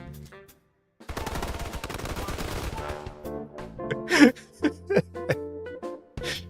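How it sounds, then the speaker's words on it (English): Gunfire in the Snowbreak: Containment Zone video game: a dense sustained burst of rapid shots, then a handful of louder separate blasts and impacts at moderate volume. "Just the sounds of gunfire."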